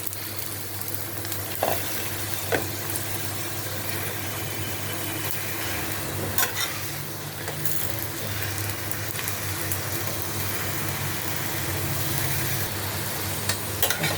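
Paratha frying in a little oil in a pan while being pressed down, giving a steady, close sizzle with crackling throughout and occasional louder pops, under a low continuous hum.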